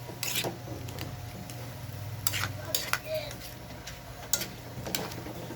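A spoon stirs pinakbet vegetables with salt, pepper and seasoning in a metal pot, giving scattered clinks and scrapes over a steady kitchen hum.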